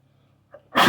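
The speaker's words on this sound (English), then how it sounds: "We sneeze, but it's fine." A single short human sneeze, close and loud, bursts out at the end after a faint intake of breath.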